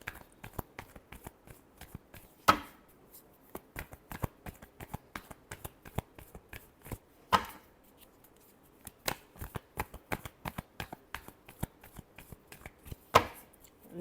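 Tarot cards are shuffled by hand in soft, rapid flicking bursts, close and quiet, punctuated by three louder slaps spaced several seconds apart, with no voices.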